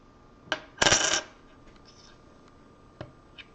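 British coins clinking while being handled by hand, a short bright cluster of metallic jingles followed by a few faint single clicks in a quiet room.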